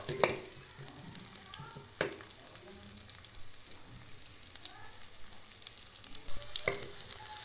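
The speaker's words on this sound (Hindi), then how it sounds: "हल्की आंच में इस प्याज को भूनना है आपने।" Onions frying in half a cup of oil over a low flame sizzle softly and steadily, with a few sharper clatters of stirring and no talk.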